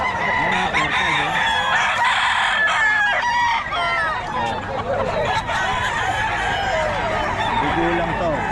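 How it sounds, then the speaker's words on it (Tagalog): Roosters crow repeatedly amid constant clucking from a crowded flock, while voices chatter underneath. "Papakita natin mga manok."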